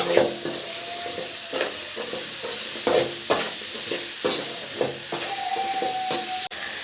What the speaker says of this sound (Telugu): ఇందులో ముందుగా మనం తరిగి పెట్టుకున్న బెండకాయ ముక్కలు ఉన్నాయి కదా ఇవి కూడా వేసేసుకొని బాగా కలిపేసుకోవాలి